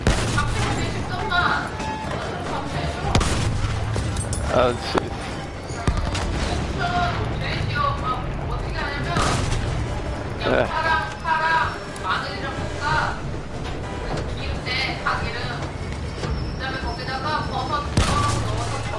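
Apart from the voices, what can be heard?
giant train cannon firing in Battlefield 1 video game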